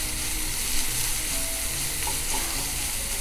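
Ginger-garlic paste sizzles in hot oil with onions for chicken keema, giving a loud, continuous frying hiss that holds steady for several seconds, with no talking.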